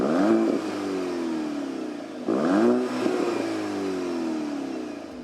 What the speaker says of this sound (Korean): 배기 사운드를 들어볼까요?